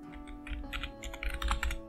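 Quick, light keystrokes on a computer keyboard, a short burst of clustered clicks at close range over a quiet room hum, with no talking.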